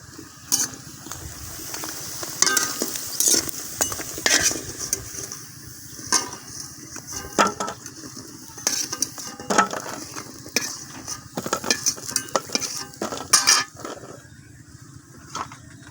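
Frying in a pan with vegetables turning red-brown while a utensil scrapes and stirs, irregular clacking scrapes over a low continuous sizzle, fairly close, no talk.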